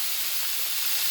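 Tomatoes tipped into a pan of sizzling garlic give a loud, broad hiss that fills the brief moment, steady and close with no voices.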